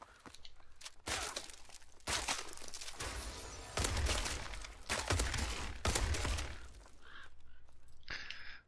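A shotgun fires repeatedly in the video game Exo Survival on the Detroit map, with heavy booming blasts every second or so, each followed by a short rattling tail, loud and close.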